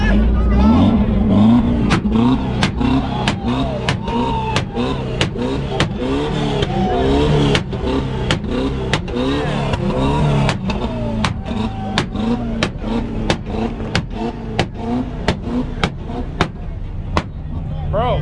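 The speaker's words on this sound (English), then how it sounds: "my main man Oscar over here in the mini truck. Let's hear it." A mini truck engine revs hard at a two-step competition at IFO Ennis, Texas, with sharp, rapid, evenly spaced pops and bangs firing over the held engine note, while people talk and shout nearby.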